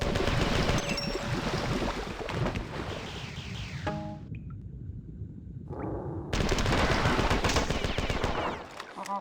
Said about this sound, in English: We're only gonna need to use the AR primary for the rest of this level.